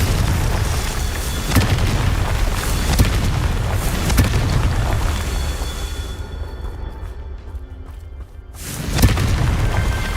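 A Confringo fire spell detonates in a Harry Potter video game as a loud, rumbling boom that sustains heavily, fades into a quieter tail, then surges again near the end, no voices.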